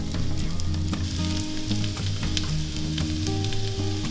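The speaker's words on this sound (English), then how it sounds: "we're gonna add a couple tablespoons of butter and let that melt. And then we're gonna saute some garlic" Minced garlic sizzles in melted butter in a skillet, a steady close crackling fry with faint stirring and a low background hum, no voices.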